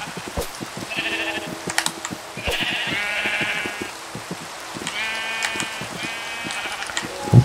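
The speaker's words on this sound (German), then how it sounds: "Wenn ich jetzt die Schafe nackig mache." Sheep bleat repeatedly in Minecraft, several overlapping calls in short bursts over soft game ambience and scattered clicks, fairly close and moderately loud.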